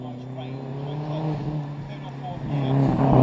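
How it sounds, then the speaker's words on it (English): Several cars at a retro car gathering roll past in a slow convoy, a steady low engine drone that swells louder toward the end, with faint voices in the background. "And the cars will be heading back down, all in a little convoy."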